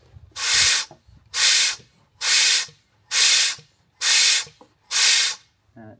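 Hand pump of an oil extractor worked for an oil change on a Range Rover 4.4 TDV8, giving six regular, loud hissing strokes of suction with brief quiet gaps between them.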